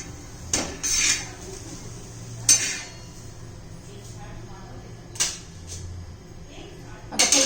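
Oil is spread on a pan while making bhagar dosa, with metallic scrapes and clinks of a utensil against the cookware coming in a few separate bursts, close by over a low background hum.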